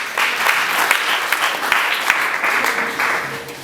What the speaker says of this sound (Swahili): Pige makofi kwa Yesu.